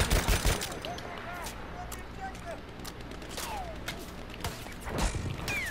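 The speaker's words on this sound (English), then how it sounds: "That's an enemy machine gun." Enemy machine gun fire in the World War I shooter Battlefield 1, rapid continuous gunshots at moderate distance with occasional whizzing rounds and louder nearby shots, under someone talking.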